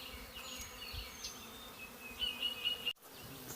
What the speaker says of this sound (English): See what those bees are doing down there?